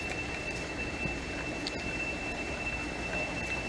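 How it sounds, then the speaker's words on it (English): Oxygen blowers running beside sturgeon fish farm tanks and ponds produce a steady, loud mechanical roar with a thin high whine, continuous and unbroken, with no talking. "And that noise is just the blowers for the oxygen."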